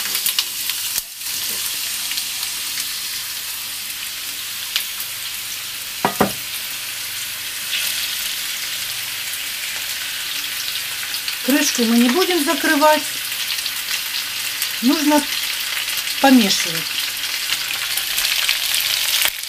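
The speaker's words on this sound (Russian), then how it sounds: "Вот наша картошечка жарится." Potatoes frying in a heated pan of a Redmond SkyKitchen multicooker give a steady background sizzle, with someone talking over it and a few brief clatters of stirring.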